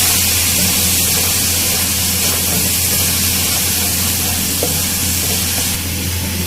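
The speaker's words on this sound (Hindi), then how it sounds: "इन दोनों चीज़ों को हम थोड़ी सी देर भूनेंगे" Radish with ginger garlic paste fries in a pan, giving a steady, loud hiss and sizzle close up that stays even throughout, with no talking.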